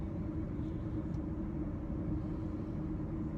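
Steady low road rumble of a car interior while driving, a continuous engine and tyre drone with no voices.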